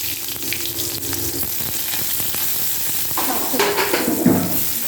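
Panch phoron, black cumin and dried chillies sizzle and crackle in hot oil, a steady close frying hiss with a louder burst of spitting near the end. No voices are heard.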